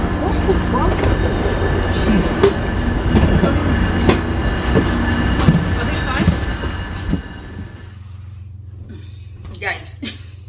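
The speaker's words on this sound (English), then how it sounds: "Train." Train at Union Station in Toronto, a loud close rumble with clattering wheels and squeals that drops away near the end, leaving a low hum and a few faint sounds.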